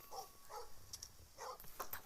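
A dog barks in a horror video game set around a house with traps and an attic, several short sharp yips and barks spread across two seconds, moderately close over a quiet background.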